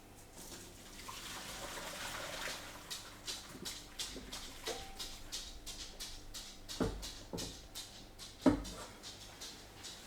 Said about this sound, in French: Voilà, mes saucisses sont égouttées.